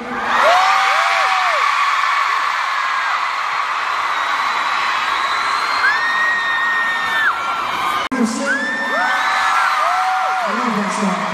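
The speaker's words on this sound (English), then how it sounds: "Can I get one more scream?" A concert crowd at a London show screams and whoops loudly and continuously, with high shrieks rising and falling and a brief clap near the end.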